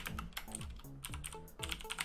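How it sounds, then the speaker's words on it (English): Rapid clacking keystrokes on a computer keyboard, loud and close, in a steady irregular rhythm with no speech. "Sorry if my keys are clacking a little loud"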